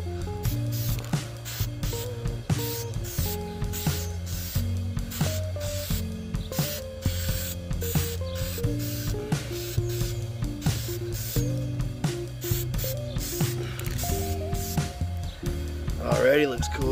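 Short bursts of spray paint hiss as Testers color shift paint in green and copper goes on over a tacky base coat, repeated in quick passes under steady music.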